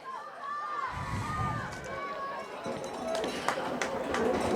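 A home crowd at a high school football game, Summit versus Pascack Valley in an invitational final, makes a steady broad roar of cheering and chatter that swells toward the end, with a commentator talking over it.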